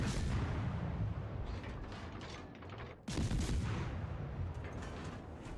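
Naval gunfire from enemy battleships in a video game, a dense continuous barrage of heavy booming blasts with a brief dip before another loud volley rolls in, no voices.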